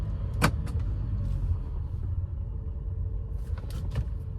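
A car driving in second gear gives a low steady engine rumble from inside the cabin, with a couple of short bumps or knocks near the start and end and no talk.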